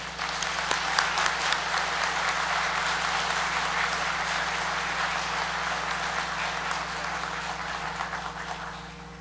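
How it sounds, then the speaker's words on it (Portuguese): Sustained applause from an audience at a city council special session honoring the 100th anniversary of the São José Cathedral in Criciúma, a steady dense wash of clapping over a constant low electrical hum, tapering slightly at the end. "uma salva de palmas aos 100 anos da Catedral São José"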